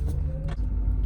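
Engine of an Acura RSX with high mileage at an auto auction, idling as a low steady rumble heard from close by, with a couple of brief bumps or clicks over it, no one talking.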